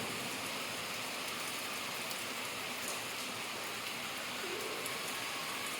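Heavy rain falls steadily outdoors in a rural yard where free-range country chickens are kept, a dense, even broadband hiss of drops on surfaces, loud and constant throughout with no talking.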